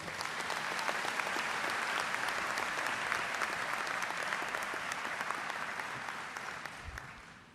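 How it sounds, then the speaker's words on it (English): A large audience applauds at the St. Thomas University 68th commencement ceremony, a dense, sustained roar of clapping that holds steady for several seconds before tapering slightly at the end. "A big round of applause, please."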